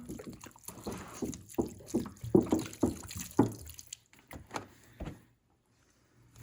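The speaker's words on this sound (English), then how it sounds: "Again, probably need some liquid. Let me pour it in, work it through." Liquid is poured into an indoor tabletop compost bin, giving irregular splashing and dripping bursts for about five seconds before it goes quiet.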